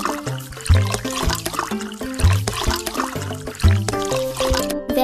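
Water pours and trickles in a cartoon puppy-washing game, set against upbeat game music with a steady rhythm and a few louder splashing surges.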